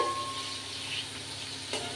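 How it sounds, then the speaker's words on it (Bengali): Eggplant pieces frying in oil for a mustard-eggplant dish, a soft, steady sizzle heard up close and fairly quiet, with no talk over it. "এদিকে আমার বেগুনগুলো সুন্দর ভাজা হয়ে যাচ্ছে"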